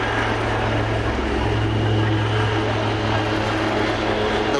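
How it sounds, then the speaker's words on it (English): Wildcat helicopters performing a Canadian break over East Fortune airfield at the Scottish National Airshow create a loud, continuous rotor and engine roar that holds steady with no breaks. "the team calls a Canadian break, with the lead Wildcat breaking over the top of number 2"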